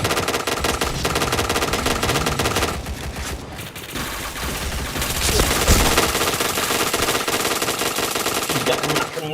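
Gunfire from the video game Point Blank rattles in continuous loud bursts of automatic fire over a dense layer of game sound and music.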